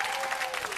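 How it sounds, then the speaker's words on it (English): Brief studio audience applause on a 1990 family game show, a steady dense patter of clapping throughout the short moment with no talk over it. "Round of applause for that."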